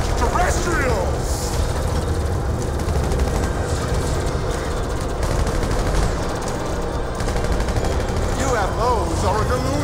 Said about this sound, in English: Let's shoot some extraterrestrials!